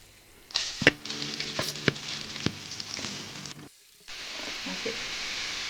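Onion, green chilli, ginger and garlic hit hot oil in a Kerala kitchen, giving sharp crackles and a sizzling patter, a brief gap of near silence, then a steady fry hiss close by.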